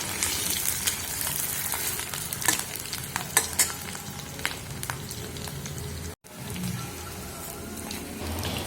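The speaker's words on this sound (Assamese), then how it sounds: "পনীৰখিনি এনেকৈ মই ফ্ৰাই কৰি লৈছো" Paneer cubes sizzle and crackle steadily in a hot pan, a dense frying hiss with occasional stirring clatter, close and continuous apart from a brief dropout near the end.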